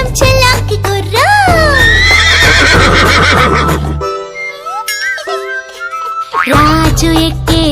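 A horse whinnies sharply over a bright children's song about a galloping horse, with steady rhythmic music and light clip-clop beats carrying on underneath.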